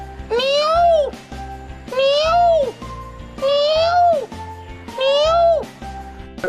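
A voice imitates a peacock's call four times, each a loud rising-then-falling wail with short pauses between.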